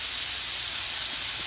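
Steady, loud steam hiss rising from under a lid over a stir-fry of broccoli and frozen vegetables, continuous and unbroken, with no talk.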